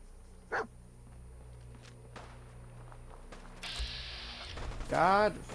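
A dog in a video game gives a short, loud bark near the end, after a stretch of quiet mechanical clicks, creaks and footsteps.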